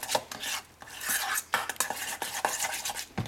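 A large spoon stirs and mashes deviled egg yolk filling in a bowl, repeated close scraping and tapping strokes against the dish in an uneven rhythm, moderately loud with no voices.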